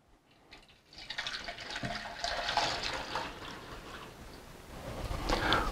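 Water pours steadily from a dirty tank into a water filter, a continuous splashing trickle that grows a little louder toward the end, with no talking.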